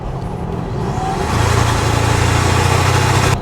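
A Toyota Tacoma Trailhunter's engine breathes through its snorkel while driving on the road, a loud, throaty drone that swells about a second in and then holds a steady, pulsing rumble, close up with no talking.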